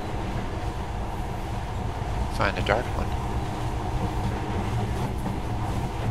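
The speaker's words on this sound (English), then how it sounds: "In the past, trains were ordinary things, but now, this monorail seems magic, doesn't it?" A monorail train from Metro: Last Light rumbles along with a steady low mechanical drone and rolling rail noise, brief squeals and clanks rising midway, while a voice speaks over it.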